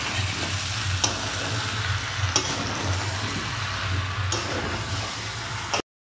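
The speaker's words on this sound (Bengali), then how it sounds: "এবার আমি এটাকে ভালো করে নাড়বো।" Potatoes with cashews and raisins are stirred in a hot pan, sizzling steadily up close, with a few sharp spoon knocks against the pan before the sound cuts off abruptly.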